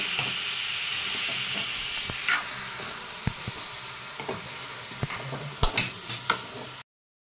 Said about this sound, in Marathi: आता हे चांगलं शिजायला द्यायचं